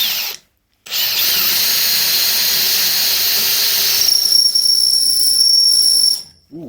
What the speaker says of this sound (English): Ooh, a bit squeaky. Might need to sharpen the drill bit.